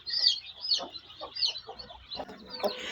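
A mother country hen clucks in quick, repeated bursts close by, calling her chicks to food, with faint chirps and farmyard sounds around her.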